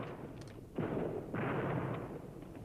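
Artillery shelling of Viet Cong positions from fire bases far to the rear, in a war documentary: two heavy, rumbling blasts about half a second apart, each sustained and rolling, over a low background roar.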